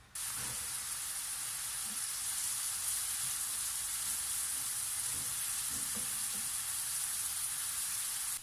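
Onions sauté in olive oil in a pan on the stove, producing a steady, even, bright sizzle from start to finish, with faint stirring knocks underneath and no talking.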